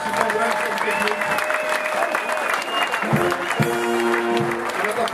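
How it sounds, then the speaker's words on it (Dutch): Audience applause fills the space, dense clapping under a voice speaking and some music or stage sounds. "Dat applaus hebben jullie ook gewoon echt verdiend."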